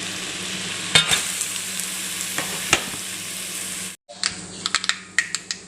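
Chopped garlic, ginger and green chilli sizzling in hot oil for chicken pickle, a steady frying hiss with a few sharp spatters and stirring clacks, a brief break, then louder crackling bursts as more goes into the pan.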